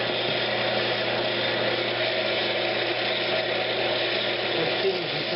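Wood lathe turning old pine with a skew chisel while cutting tenons for cabinet knobs: a steady, loud broadband whir of the spinning workpiece with a continuous motor drone, running evenly throughout.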